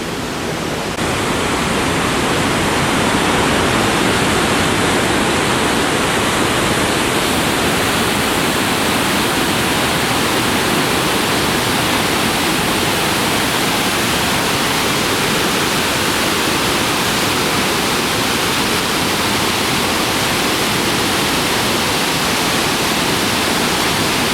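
Salto Bossetti waterfall in Iguazu National Park, Argentina, roars in a constant, dense rush of white noise, loud and unbroken throughout with no voices.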